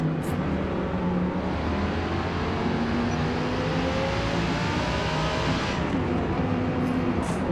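Lamborghini Super Trofeo race car in Forza Motorsport, engine droning steadily at high revs with shifting pitch, loud and continuous throughout.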